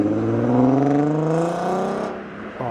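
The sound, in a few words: six-cylinder diesel car engine revving at a car meet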